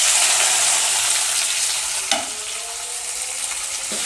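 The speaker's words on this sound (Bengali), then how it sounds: "পেঁয়াজটা 1 থেকে 2 মিনিটের মতো হালকা লাল হওয়া অবধি ভেজে নেব" Chopped onion sizzles and crackles in hot oil with a bay leaf, a steady bright frying hiss with a brief stir around the middle, close and alone.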